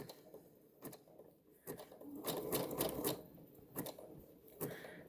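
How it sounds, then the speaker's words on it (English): A quiet sewing machine zigzag stitches along a fabric edge to keep it from fraying, running in short uneven bursts with faint ticking between them. "we want is for our zigzag to just kind of finish this edge so it doesn't fray"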